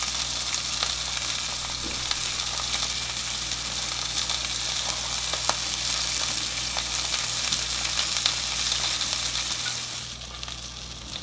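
Blackened salmon fries in a pan with a steady, close sizzle and crackle throughout, easing off slightly near the end, with no talk.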